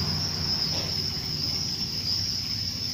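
Crickets chirping in a rearing box, a steady high-pitched shrill trill running continuously and close, with faint low background noise and no speech.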